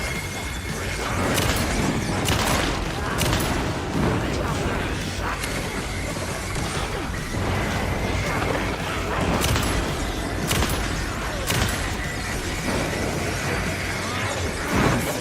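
Shotgun blasts ring out during combat in Alan Wake 2, a series of sharp, loud booms spaced irregularly over a dense bed of game noise and music, with a player's voice talking at times.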